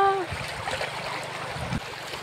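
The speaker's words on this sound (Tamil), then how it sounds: "பாருங்க தண்ணி நிறையா போகுதுங்க" Floodwater flows close by as someone wades through it, with low sloshing and splashing churning steadily under a constant watery rush; a brief voice-like tone opens the moment.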